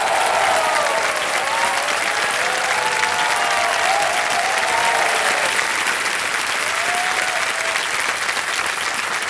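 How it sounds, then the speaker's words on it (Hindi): Studio audience applauding on the Hindi TV quiz show Kaun Banega Crorepati after a contestant wins a cheque, a dense, loud, steady wash of clapping throughout, with faint tonal music beneath. "तालियां बज जाए इनके लिए"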